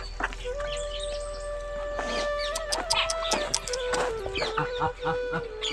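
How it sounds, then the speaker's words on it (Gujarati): A rooster clucks repeatedly in a busy outdoor household setting, its calls rising over a steady background hum, with overlapping bird and farmyard noises throughout. "હશે કાર્તિકનું કુકડું"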